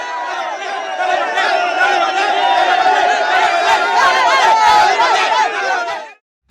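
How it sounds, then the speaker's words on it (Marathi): A large crowd cheers loudly in political celebration for Thalapathy Vijay, a dense, continuous roar of many shouting voices with chatter mixed in that cuts off abruptly at the end. "हा जल्लोष थलपती विजय यांचा मुख्यमंत्री बनण्याचा मार्ग मोकळा झाल्याचा आहे."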